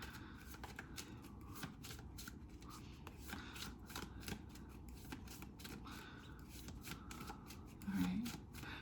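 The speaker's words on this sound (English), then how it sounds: "pulling a tarot card for you from the Majors from the Rose Tarot by Nigel Jackson" A deck of Rose Tarot cards by Nigel Jackson is shuffled, making a steady, soft riffling and sliding rustle that carries on without a break at close range, with a brief louder bump near the end.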